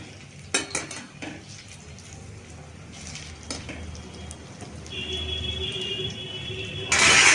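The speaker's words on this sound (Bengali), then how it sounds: "এক পিঠ ভাজা হয়ে গেছে।" Prawn fritters bound with gram flour fry in a pan at home, a soft steady sizzle building in the second half, broken by sharp clinks of a spatula and utensils against the pan.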